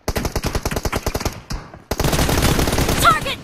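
Rapid automatic gunfire in the mobile shooter PUBG Mobile, a burst of sharp evenly spaced shots that stops briefly, then resumes as a denser, continuous roar of firing under faint game noise.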